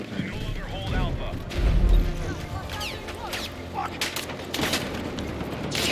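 Gunfire rattles through a first-person shooter video game in scattered bursts with a heavier boom near the start, mixed with clanks and game noise, while people talk over the action.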